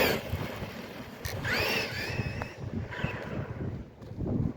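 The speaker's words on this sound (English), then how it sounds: "I know it's windy as hell out here." Wind buffets a microphone outdoors at a bash day for an electric-converted Traxxas Revo 3.3 RC truck, with a steady low rumble and gusts throughout and a faint high whine of the truck's motor in the distance.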